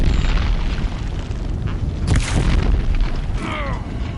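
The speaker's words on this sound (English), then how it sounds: "If the Deathbringers keep firing," Deathbringer guns firing and exploding in Horizon Zero Dawn, heavy booming blasts rolling over a continuous rumble, with one louder burst near the middle and a metallic whine toward the end.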